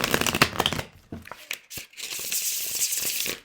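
Rapid, crisp fluttering of cards riffled together, a couple of quick bursts close up, ending in a softer rustling cascade.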